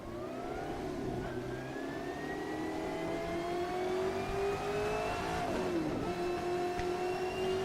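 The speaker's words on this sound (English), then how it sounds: "clutch in, first gear, and off we go in Formula 79" A Formula 79 race car engine in a racing simulator pulls away in first gear and climbs steadily in pitch as it accelerates, a loud continuous whine with a brief dip near the end, no voices.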